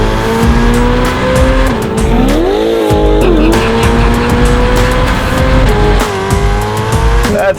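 A Ferrari F8 fitted with a Novitec exhaust roars loudly up close, its engine pitch sweeping and rising through revs with a brief dip, raspy and sustained.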